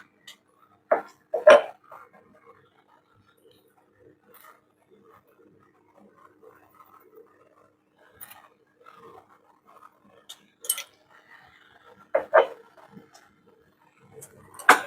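A spoon clinks and scrapes in a pan while gulamba, raw mango cooked with jaggery water and salt over a low flame, is mixed. Sparse, soft knocks come in small clusters with quiet gaps between.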